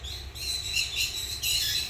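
Small birds in a bird room give bright, high chirps and tweets in quick repeated bursts, fairly close, over a low background hum.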